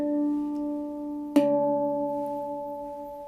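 A single handpan note struck once and left ringing, its clear tone layering over an earlier note that is still sustaining, close and fairly soft, with no talking.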